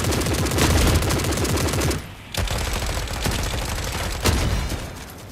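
Sustained automatic gunfire from a video game firefight against infantry, loud and dense bursts of rapid shots with a brief pause near the middle before the firing resumes.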